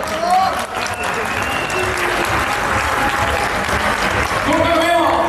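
A crowd at the opening of a regional First Lego League tournament in Brežice applauds loudly and steadily for several seconds, with cheering voices mixed into the clapping.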